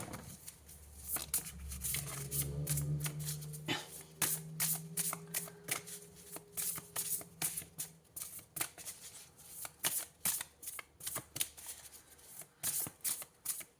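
A deck of tarot cards is shuffled by hand, with a rapid riffling patter and then a long run of crisp, repeated card slaps at close range, steady and fairly loud.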